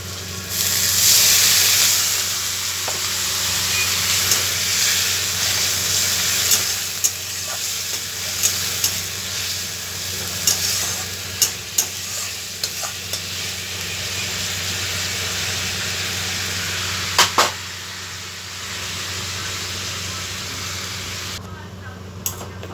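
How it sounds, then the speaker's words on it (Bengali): Potatoes frying in oil sizzle loudly as a little water goes in, producing a sharp burst of hissing steam that settles into a steady crackle, with occasional clinks of a spoon against the pan. "এবার আমরা এর মধ্যে অল্প করে একটু সামান্য জল দিয়ে দেবো।"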